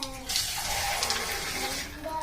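Tap water runs steadily while a gas stove is scrubbed with dish soap in a home kitchen, a continuous broadband wash that is close and constant, with a faint voice underneath.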